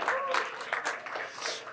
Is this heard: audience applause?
yes